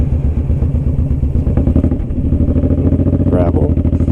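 Motorcycle riding near Heber Springs, the engine's steady rumble and chug close and loud throughout, with wind buffeting and a brief higher tone near the end.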